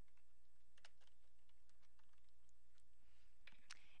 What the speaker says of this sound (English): I'm going to type something in.